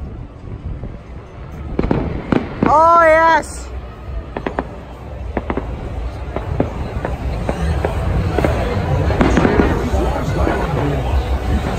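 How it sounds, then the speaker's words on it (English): Fireworks pop and crackle at a distance at the Royal Adelaide Show, under excited shouting and a brief whistle-like cry, with crowd noise building throughout. "Oh, dude, we're getting the best view of the fireworks."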